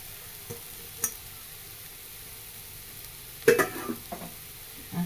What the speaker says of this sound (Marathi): त्याला व्यवस्थित फिरवून घेऊया चांगलं.